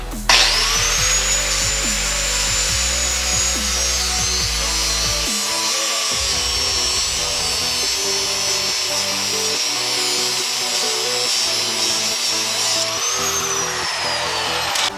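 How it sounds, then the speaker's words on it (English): A power tool cuts off the leftover end of a bolt on a handmade chain flail, a loud, sustained high-pitched metallic whine that holds steady for the whole stretch, with shifting grinding tones underneath and no speech. "Now the last thing you gotta do is just cut off what's left of the bolt."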